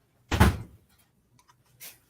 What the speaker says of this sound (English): I just got to shut this door quick.